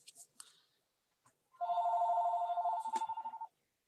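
A telephone rings with a single sustained electronic warble that holds for about two seconds, clear and fairly close, following a few brief faint knocks and clicks in an otherwise quiet room.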